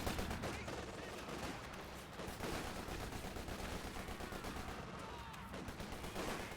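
Battle din from a WWII strategy game, with rapid small-arms and machine-gun fire rattling steadily beneath heavier reports that fit a Firefly tank gun firing, busy and continuous throughout.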